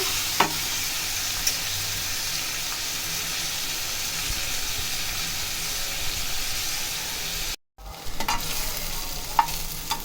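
Ivy gourd sautéing in a pan, with a steady loud sizzle and hiss of frying and occasional stirring scrapes and clicks, close up, a brief silent break partway through, no talk.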